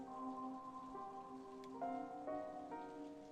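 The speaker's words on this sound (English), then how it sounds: "The rain's not stopping, huh?" In the Steins;Gate 0 video game, constant rain patters under a slow, shifting melody of sustained notes, a soft continuous hiss with no voices.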